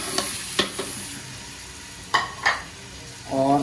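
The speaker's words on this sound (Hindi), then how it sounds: "घी गर्म हो चुका है, अब सबसे पहले इसमें चिकन शामिल करेंगे" Chicken pieces hit hot ghee in a karahi with a loud close sizzle, broken by several sharp stirring scrapes and clatters, with the frying swelling again at the end.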